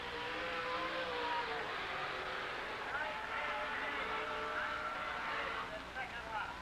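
A late model race car roars around a speedway oval, its engine note rising and sweeping as it laps, heard somewhat distant beneath a track announcer's commentary.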